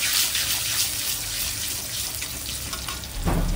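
Garlic hisses and crackles hard in hot oil left from frying fish, a loud, dense sizzle held throughout, with a burst of heavier spitting near the end.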